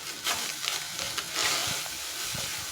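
Beef samosa filling fries with spices over a high flame, a soft steady sizzle broken by stirring scrapes and spoon clacks against the pan, close and fairly quiet.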